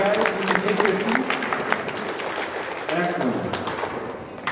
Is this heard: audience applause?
yes